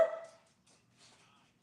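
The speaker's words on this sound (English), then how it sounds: "Quit barking." Indoor dog barking, a single loud bark at the start followed by fainter yips and small whimpering noises, fairly close, with no talking over it.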